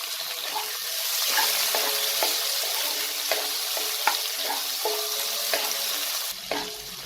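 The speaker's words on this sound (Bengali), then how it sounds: "এটাকে আমি 1 মিনিটের মতো একটু নাড়াচাড়া করে নিলাম" Grated ginger and chopped tomato are stirred in a hot pan, a close, even sizzle overlaid with regular spatula scrapes and clinks, continuing alone without talk and easing slightly near the end.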